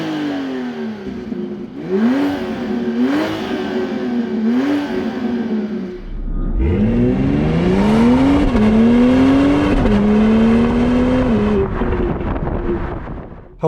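A 2025 BMW X3 M50's turbocharged inline-6 pulls hard and loud, revving up through several quick gear changes before a longer surge to a steady, strong drone.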